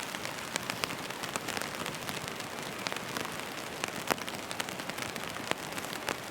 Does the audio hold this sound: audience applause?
no